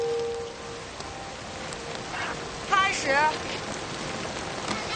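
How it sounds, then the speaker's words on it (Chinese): Artificial rain falls on a television drama set, a steady hissing patter throughout, with brief voices and a short vocal burst near the middle cutting through the wash. "下雨。"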